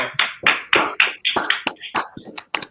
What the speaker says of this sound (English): I want to give the gentleman a round of applause